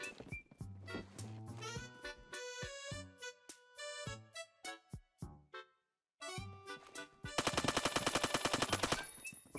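Rapid automatic sniper rifle fire in Phantom Forces: a series of sharp, loud shots, some close together and some spaced apart, a brief gap, then a fast continuous burst near the end.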